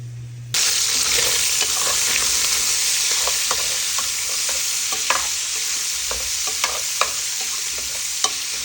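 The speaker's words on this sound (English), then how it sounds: "Don't want that sausage to stick too much, so we stir it a little bit every once in a while." Smoked sausage, previously smoked over mesquite and hickory, sizzles steadily in a pot for Louisiana chicken and sausage gumbo, a loud continuous fry with scattered sharp scrapes and taps of a utensil stirring, starting abruptly after a brief quiet moment.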